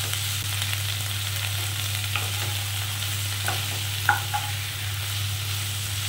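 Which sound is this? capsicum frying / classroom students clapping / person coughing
capsicum frying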